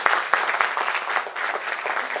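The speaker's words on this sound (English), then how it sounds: "A huge round of applause for them." A crowd at a cultural program applauds, dense continuous clapping with a few sharp claps up front, fairly loud and sustained for a couple of seconds.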